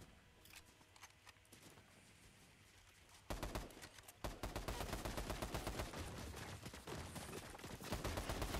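Rapid gunfire in the Fortnite video game crackles in dense bursts, quieter and sparse at first, then turning loud and almost continuous for the rest of the stretch.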